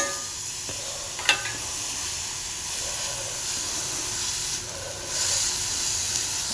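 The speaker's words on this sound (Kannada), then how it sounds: "ಇನ್ನೊಂದೆರಡು ನಿಮಿಷ ಫ್ರೈ ಆಗಲಿ" Carrots fry in a pan for carrot payasam, giving a steady close hiss and sizzle that swells slightly near the end, with one sharp clink early on.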